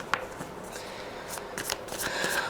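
Tarot cards are shuffled and drop in quick, soft riffling flicks and light slaps, close and fairly quiet, with no one talking.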